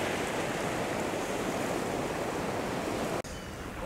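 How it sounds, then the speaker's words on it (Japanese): Waves surge against the shore during a daytime sea bass fishing outing in Toyama, Japan, a steady close rushing wash that drops abruptly near the end. "波来るようになったんで"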